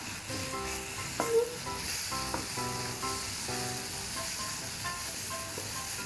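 Garlic and chili stir-frying in a pan, a steady close sizzle with scraping and clinking from the stirring, alongside a tonal background hum.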